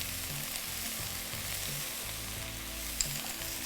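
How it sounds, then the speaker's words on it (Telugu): Fenugreek leaves fry slowly in ghee for menthi kura pappu, a steady close sizzle with a low bubbling rhythm and one small click near the end, without any talk. "ఈ నెయ్యిలో ఇప్పుడు ఈ ఆకుకూర స్లోగా కుక్ అయ్యి"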